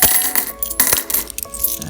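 Coins drop one after another into a display holder, a series of bright metallic clinks and jingles, close and loud with no talking.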